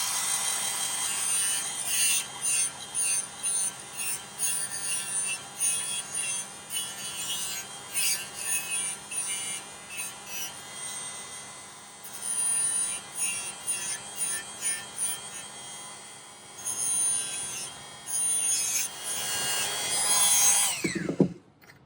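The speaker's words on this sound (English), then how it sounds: "I'm using a white abrasive silicone wheel to take this off of here." A white abrasive silicone wheel on a rotary tool grinds a chrysoprase saddle ring in repeated short bursts, its whirring rising and dipping as the piece is pressed and lifted, close and fairly quiet, ending in a brief louder scrape.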